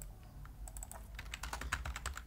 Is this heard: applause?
no